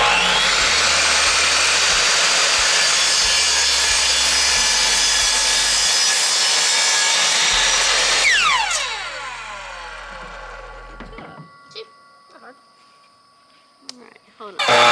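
Wood being sawn, a loud continuous rasping that fills the first eight seconds and then winds down to silence, followed by a few small knocks and handling sounds.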